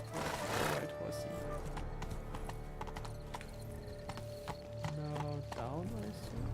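Horse hooves clip-clop steadily in Witcher 3, mixed with game music and ambient sound as the horse moves along.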